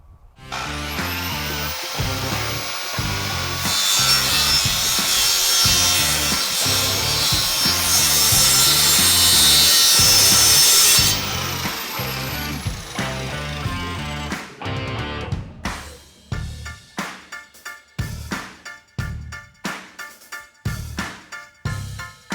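Hand sawing through wooden boards while building a market crate, a steady loud back-and-forth rasping that runs continuously at first, then breaks into shorter separate strokes near the end; no talking.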